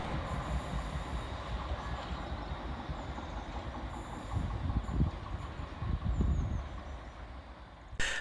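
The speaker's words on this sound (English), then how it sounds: "departing on the low-level station is 380-015 with the 1554 Scotrail Cathcart Circle service from Glasgow Central" A ScotRail Class 380 electric unit, 380-015 on the Cathcart Circle service, pulls away from the low-level platform at Pollokshields East, a steady rumble of wheels and traction running throughout, swelling slightly near the end.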